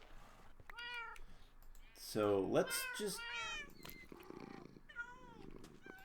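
Several Minecraft cats meow in short bursts, one loud and close, with quieter mews around it, while someone speaks over them.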